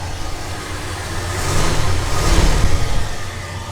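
A cold 1967 Oldsmobile Delta 88 V8 running after a start, its engine rising into a loud rev midway through before easing back to a rough, throbbing idle, heard close with no talking.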